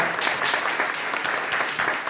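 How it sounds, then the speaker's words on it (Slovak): A live audience applauds a panel guest taking a seat at a discussion event, a dense, even wash of clapping that holds steady throughout. "poprosím veľký potlesk"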